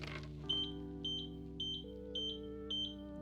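A string of short high-pitched electronic beeps from a 2025 Victory Platinum mobility scooter's error code, repeating at an even pace, five in all, over a steady low hum.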